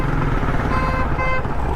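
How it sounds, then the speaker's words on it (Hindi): A motorbike rides along a busy, broken-up street in Karachi, its engine buzzing loudly and continuously close by, with horns honking and other traffic mixed in around it. "किस तरह से मुझे यहाँ पर बाइक चलानी पड़ रही है।"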